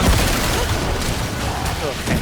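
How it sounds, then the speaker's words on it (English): Explosions in Diablo 4, from a hardcore Paladin Lance and Wing build on Torment 3, roar in a dense, continuous barrage of overlapping booms and rumbles with no pause. "Okay, lots and lots of explosions. Nothing but explosions."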